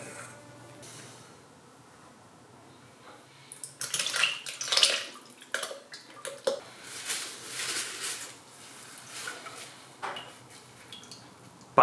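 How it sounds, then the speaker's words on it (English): Strawberry shrub liquid straining through a grain bag, splashing and trickling close by with wet squeezes and drips, rising to a heavier pour midway before tapering off. "just strain as usual. I'm using this grain bag"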